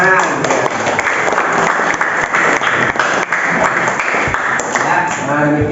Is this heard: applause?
yes